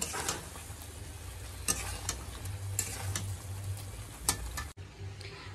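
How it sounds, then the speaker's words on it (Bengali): Spice masala being stirred as it fries in a pan for a Bengali potol dorma, a steady close sizzle broken by scraping strokes of a spatula, with a sharp knock near the end before the frying quiets. "এইভাবে ভালো করে নাড়াচাড়া করব। মশলাটা যখন কষানো হয়ে যাবে তারপরে জল দিয়ে দেব।"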